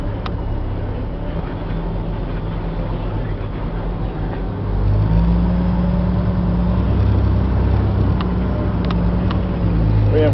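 A 2002 Chevy C8500 military truck with a Caterpillar 3126 diesel rumbles low and steady as it drives, swelling noticeably louder partway through.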